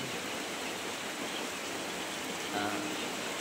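Night rain falls as a steady, even wash of noise that holds at the same level throughout, with no talking.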